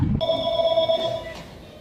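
One telephone ring trills at the Hub City Cycle bike shop, a bright electronic bell lasting about a second before it cuts off and the room goes quiet.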